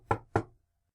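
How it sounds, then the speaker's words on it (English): Two firm knocks on a door, close and distinct, about a quarter second apart, followed by silence. "Finally, a knock on the door!"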